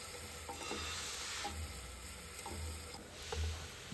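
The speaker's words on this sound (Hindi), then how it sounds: "जीरा के बाद डालेंगे प्याज जो मैंने काटे थे। ऐसे ब्राउन करेंगे थोड़ा सा।" Chopped onions browning in a pan of hot oil after cumin, for a spicy soyabean pulao: a steady sizzle of frying runs throughout, with repeated scraping and stirring strokes at close range and no voices.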